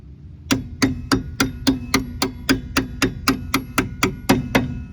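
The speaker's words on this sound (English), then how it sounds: "you're going to tap it in with your hammer while keeping your finger on the line so it doesn't fall" Fourteen sharp, evenly spaced hammer taps ring out close by as a brake line clip on a 1991-2003 Ford Escort or Mercury Tracer rear strut is knocked into place, steady and metallic with no talk.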